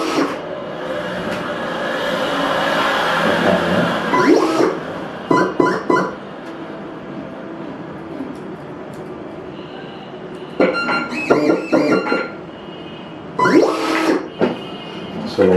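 A SKYCUT V24 cutting plotter cuts a sticker, its carriage motor whirring in bursts broken by short sharp stepping buzzes and pauses, close and fairly loud.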